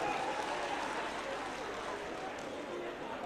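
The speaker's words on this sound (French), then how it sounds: "que je vous prie d'applaudir." Audience applause at a national party convention of the RPG, a steady dense wash of clapping from a large crowd filling the whole stretch with a faint murmur of voices.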